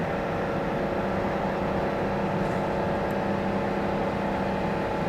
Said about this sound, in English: That is a really high revving diesel engine.